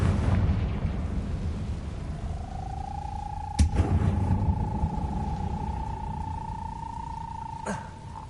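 A fiery explosion spell from the video game Hogwarts Legacy goes off, sharp bursts followed by a rumbling boom and a ringing magical tone over steady background rumble.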